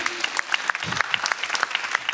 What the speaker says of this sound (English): Please give the panel a big round of applause and thank you.